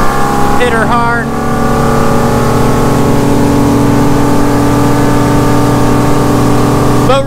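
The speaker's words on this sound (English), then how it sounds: "Boat really does run strong." A 2007 Chaparral 276 SSX motorboat engine roars loudly and steadily throughout, running hard at high revs on the water, with brief squeaky sounds near the start and end.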